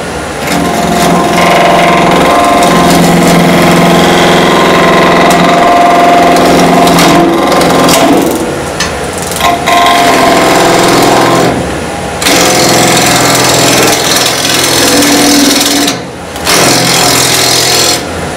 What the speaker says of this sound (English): you can hear the clacking going a little bit faster